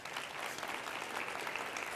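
Audience clapping at a talk on women of color in medicine, a dense, even patter of many hands heard from a distance and fairly quietly, with no pauses.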